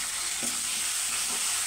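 Curry leaves and turmeric fry in hot oil as a tempering for tamarind rice, a dense steady sizzle close up with a couple of soft stirring scrapes.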